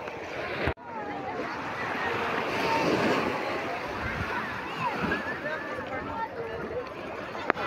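Gentle surf washes continuously along a beach at Urbiztondo, La Union, mixed with gusty wind buffeting the microphone and faint voices in the background.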